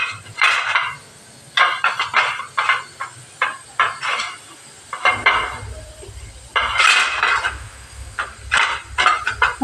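Steel idli steamer plates clink and scrape repeatedly while being oiled, a run of sharp, close metallic taps and rattles with short pauses and a faint hiss underneath.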